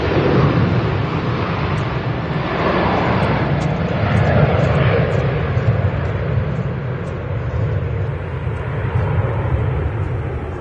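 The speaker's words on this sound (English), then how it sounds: "This is the TUI 737. Going to Sharm el Sheikh." A TUI Boeing 737 airliner takes off at Manchester Airport with a loud, sustained engine roar that holds steady throughout, filling the scene without any voices.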